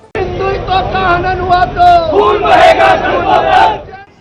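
A crowd gathered outside BJP MLA Sangeet Som's house in Sardhana, Meerut, shouts threats: loud, close massed voices chant and yell together in rising, overlapping bursts.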